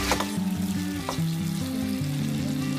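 Okra (vendakkai) sautéing in a generous amount of oil gives a lively, continuous sizzle and crackle, with brief scraping stir sounds near the start and no voices.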